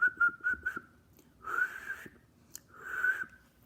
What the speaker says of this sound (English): Let me hear you whistle.